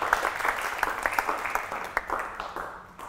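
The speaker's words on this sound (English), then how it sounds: "can we have a round of applause for our first guest speaker, Serpil Senelmis?" An audience applauds a guest speaker at an evening talk on creating a podcast, scattered claps forming a modest round that is fairly faint and tapers off over about three seconds.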